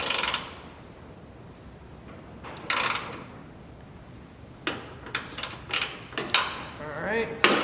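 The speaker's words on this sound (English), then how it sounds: "looks like we're tightening it all the way" A bolt on a Dee Zee tailgate assist shock for a 2015+ Ford F-150 being tightened, heard as bursts of close ratchet clicking and metallic mechanism sounds separated by quieter pauses.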